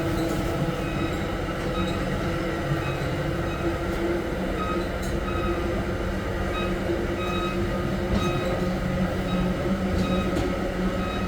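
Constant loud rumble and rattle inside a moving winter exo commuter train on the Mascouche Line, with steady wheel and motor noise and faint metallic squeaks throughout; snow blows in through a hole.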